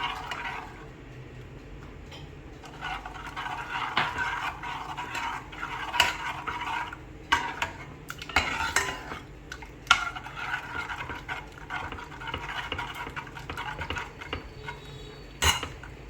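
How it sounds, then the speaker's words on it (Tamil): Utensil stirring custard paste in a pan until creamy, with scraping and clinking of metal against cookware, steady and close with occasional sharper knocks, no talking. "நம்ம அந்த க்ரீமி கன்சிஸ்டன்சி வர வரைக்கும் நம்ம வந்து விடாமல் கிளறணும் இல்லையா?"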